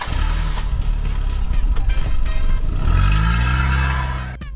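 A car engine in a mobile shooter video game cranks and catches, then a loud, rough rumble revs and churns for a few seconds before cutting off abruptly.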